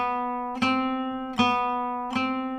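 Acoustic guitar strummed with alternate picking during a warm-up drill, three evenly spaced crisp strokes each ringing into the next, soft and close with no voices.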